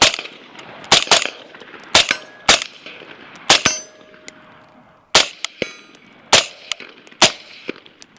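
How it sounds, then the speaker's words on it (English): Rifle fitted with a Sig suppressor fires a string of suppressed shots at a paper target: about a dozen sharp, loud cracks at uneven intervals, each with a brief metallic ring and short decay. "I'm gonna shoot just a couple more rounds at the paper"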